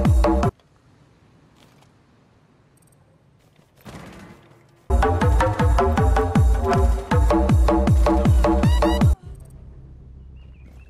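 Rapid bursts of automatic gunfire in Rainbow Six Siege ring out loud and close, a dense string of sharp shots lasting several seconds after a short early volley, then cutting off abruptly into quiet.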